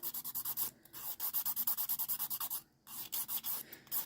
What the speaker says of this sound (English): While you are filing, you want to always continue to look at the nail